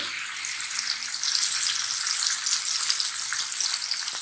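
Chicken slices frying over a medium flame in hot oil and margarine, giving a steady, dense sizzle that swells slightly after the first half-second and then holds loud and even throughout, with no voices.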